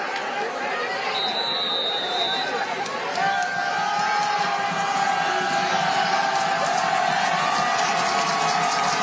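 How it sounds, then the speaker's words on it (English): A crowd at a high school football game fills the air with loud, sustained cheering and chatter, a dense roar that holds steady throughout. "Listen to this crowd."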